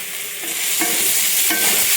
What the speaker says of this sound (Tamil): கொஞ்சம் பச்சை வாசனை போகிற வரைக்கும் வதக்கிக்கலாம்.